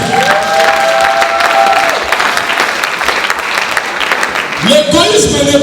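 A church congregation applauds and cheers for God, loud sustained clapping from a crowd with a preacher's voice speaking over it and rising again near the end.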